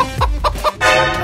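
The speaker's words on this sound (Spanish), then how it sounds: "¿Oyeron eso? ¿Acaso es una gallina?" A hen clucking loudly and close by, three or four quick, rising clucks followed by a longer drawn-out squawk, with no voices over it.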